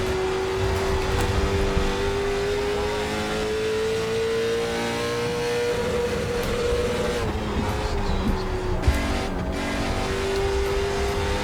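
Late model stock race car engine during qualifying at Thompson Speedway in iRacing, holding a loud steady whine at high revs that dips and rises through the corners, with no talk.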